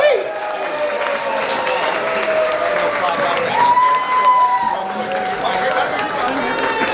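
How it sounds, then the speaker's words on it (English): Audience applause at a blues festival, a dense, steady wash of clapping from a crowd that holds at an even level throughout, with a sustained musical tone and voices ringing faintly underneath. "Let's have a nice round of applause for the one and only"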